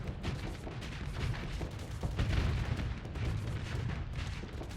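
Ships in a space strategy game fire antimatter blaster rounds, a dense, continuous barrage of heavy booming shots that rumble and overlap without pause.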